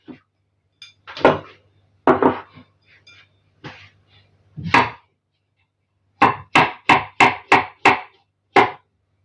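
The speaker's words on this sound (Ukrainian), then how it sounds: "Далі відповідними шматочками нарізаємо помиті шампіньйони." A knife cutting washed champignon mushrooms on a board, with a few irregular thuds and then a quick run of six or seven crisp, evenly spaced chops, close and clear.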